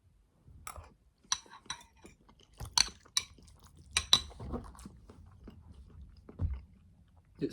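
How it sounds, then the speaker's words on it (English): Cutlery scraping and clinking against a bowl of pasta as someone struggles to load it onto a spoon and fork, in scattered close, sharp clicks with some chewing between them, no talk. "I can't even get this pasta on the fucking spoon"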